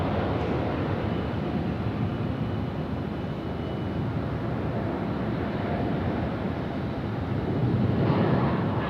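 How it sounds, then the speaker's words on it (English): China Southern airliner departing Sydney Airport runway 16 right at night, a steady broad jet engine roar heard from a distance that holds evenly and swells slightly toward the end. "I think that's China Southern just starting to depart here, runway 16 right"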